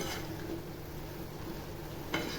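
Tomato pieces go into a pan of frying spring onion greens with garlic tempering, giving a steady close sizzle with a soft stir and a brief clatter near the end.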